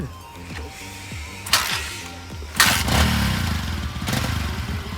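A rebuilt stunt motorcycle engine runs nearby, a low rumbling idle that swells into a louder rev after a couple of clunks.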